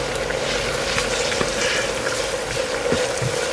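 Kerala beef fry sizzling steadily in a pan while being stirred, a close, continuous crackle with small scraping accents throughout.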